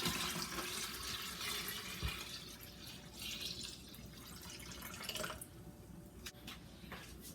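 Cold water pours steadily into a pitcher of lemonade made with chilled simple syrup and fresh lemon juice, a soft continuous splashing that eases off near the end.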